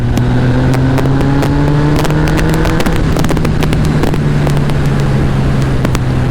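A Honda Hornet 919 motorcycle engine pulls in fourth gear at part throttle, around 3,500 rpm and 45 mph. It makes a loud, steady droning note that rises slightly, with constant wind rush and scattered crackles, and no one talks.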